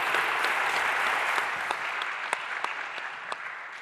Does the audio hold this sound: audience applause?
yes